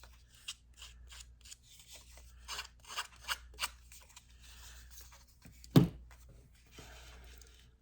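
Paper edges distressed by scraping for a scrapbook layout on kraft cardstock, heard as a series of short rasping scratches and rubs at close range, with one sharper, louder scrape near the end.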